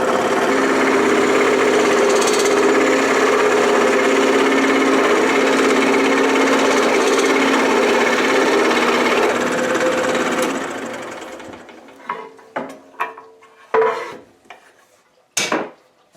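A saw makes the first cut between the teeth of a poplar piece, a loud steady buzzing grind for about ten seconds that then stops, followed by scattered clacks and knocks of handling.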